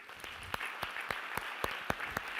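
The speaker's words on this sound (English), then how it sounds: "give our amazing panelists a huge round of applause" A crowd applauds steadily, with a sustained wash of clapping and a few sharper individual claps standing out.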